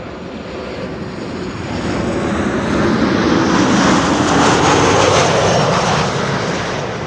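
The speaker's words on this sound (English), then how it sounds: "this is KLM flight 924 arriving from Edinburgh" A KLM airliner arriving at Amsterdam Schiphol from Edinburgh rumbles overhead, with its engine roar swelling from moderate to loud, holding steady, then easing slightly. No voices are heard over it.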